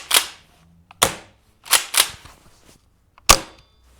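A Tokyo Marui Keltec KSG gas airsoft shotgun fires five sharp, loud cracks at irregular intervals, two of them close together, with quiet gaps between.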